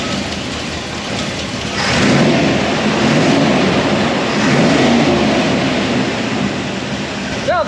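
A project truck engine starts and is revved. After a quieter stretch it roars up at about two seconds, and its loud, rough revving surges and falls, close by, for the rest of the clip.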